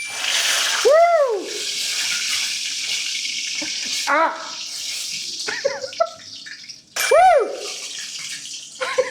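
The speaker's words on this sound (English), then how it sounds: "I'm now going to fry my chicken." Chicken for ayam gepuk dropped into hot oil, a loud, continuous sizzle and splatter broken by a person's sharp startled yelps and exclamations.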